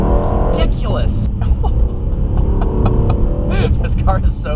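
A 2018 Mercedes-AMG E63S with AMG Performance exhaust rumbling loudly and deeply at close range, with crackling pops between revs, while people talk over it.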